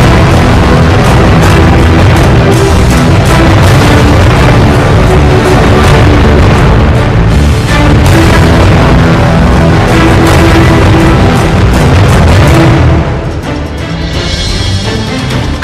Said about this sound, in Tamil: சமையல் எரிவாயு ஏற்றிச் சென்ற லாரி வெடித்துச் சிதறும் காட்சி வெளியாகி பரபரப்பை ஏற்படுத்தியது.